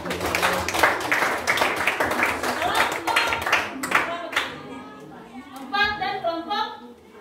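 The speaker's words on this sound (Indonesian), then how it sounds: "Berikan tepuk tangan." Applause from students in a junior high school classroom in Nainggolan, Samosir: a dense patter of clapping for about four seconds, then fading as a teacher and children talk.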